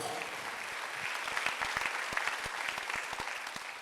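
A church congregation claps during a Sunday worship service, a dense burst of hand claps filling the room for a few seconds, moderately close and fairly soft.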